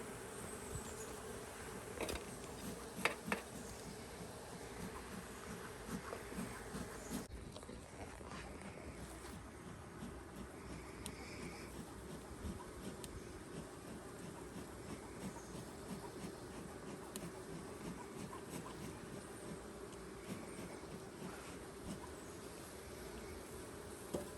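Honeybees hum around a hive being opened for inspection just after a swarm, a faint, continuous buzzing drone with a few brief clicks and knocks, no voices.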